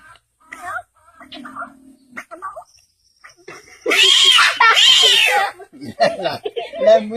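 A voice imitates a female cat meowing: two loud, drawn-out meows in the middle, framed by softer, quieter speech before and after.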